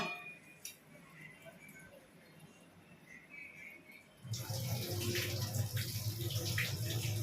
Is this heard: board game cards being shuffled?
no